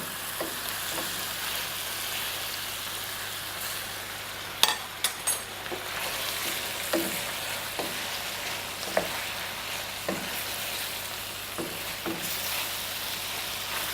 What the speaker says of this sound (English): while the ratatouille is simmering away there